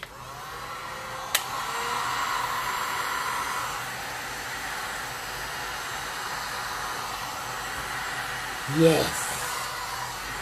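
A heat gun blows over a freeform resin art piece with a steady, loud, airy rush like a hair dryer, broken by a brief sharp tap and a short bump near the end, while a voice briefly answers.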